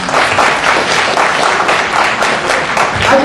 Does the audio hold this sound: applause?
yes